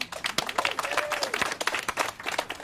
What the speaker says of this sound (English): Let's give a big round of applause to all our community partners who are making this happen